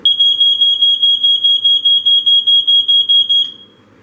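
A Wake 'N Warn smoke alarm beeps rapidly and piercingly during a test, about seventeen quick evenly spaced shrill pulses, loud and close, then cuts off.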